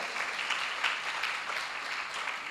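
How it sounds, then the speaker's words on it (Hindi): Dense, steady applause from a large audience at an evening Jain religious discourse and aarti gathering fills the whole stretch. It is loud, continuous and crowd-wide, with no gaps or voices. "बहुत जोरदार तालियां बजाओ।"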